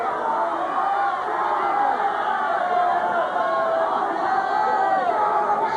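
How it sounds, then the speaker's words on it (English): Darts fans in the crowd at the 1991 World Championship applaud with a steady, dense wash of clapping and murmuring chatter, moderately loud and continuous throughout. "the Evison fans applaud at last"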